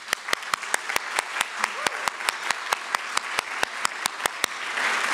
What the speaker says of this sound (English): So one more round of applause to the graduates.